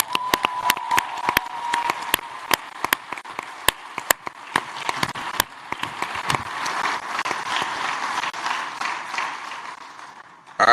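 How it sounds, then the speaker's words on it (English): A conference audience at a global forum claps for the TD Jakes enterprise group, starting with a few sharp scattered claps that build into dense sustained applause before fading. "would you just give them a round of applause?"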